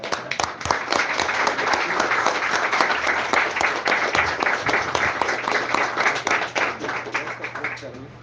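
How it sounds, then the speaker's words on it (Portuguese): Steady applause and clapping from a church congregation, dense and sustained across the whole stretch, with voices mixed in beneath it. "Palmas, papai."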